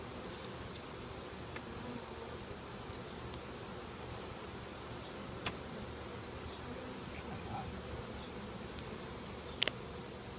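A captured honey bee swarm gives a steady, quiet buzzing drone that holds evenly throughout, with a couple of brief clicks and no talking.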